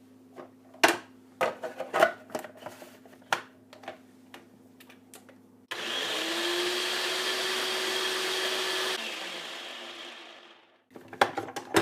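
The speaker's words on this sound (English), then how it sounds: "Or I have a small food processor" A small food processor chops cauliflower florets into rice, running as a loud, steady whir for about five seconds after a stretch of clattering, tapping handling sounds.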